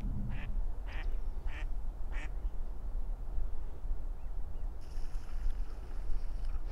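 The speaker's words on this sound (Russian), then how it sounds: "Они же нам не мешают, уточки" Several short duck quacks sound in a quick series over steady outdoor water and wind noise, moderately close.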